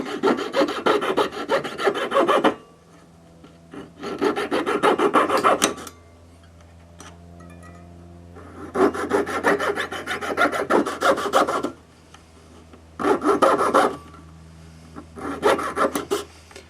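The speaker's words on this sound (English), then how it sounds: "is just lightly cut with your saw all the way around." A jeweler's saw drawn lightly around metal: bursts of rapid, rasping back-and-forth strokes lasting a few seconds each, separated by short quiet pauses, close and fairly loud.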